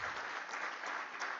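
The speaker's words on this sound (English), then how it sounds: "I would like those who are seated, please, to clap for these" Seated audience members at a Cyber Week Africa conference session clap for young people, a brief, faint, even patter of applause heard from a distance.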